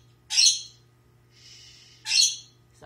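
Pet birds inside a house give two loud, harsh squawks about two seconds apart, separated by a softer raspy call, over a faint low hum.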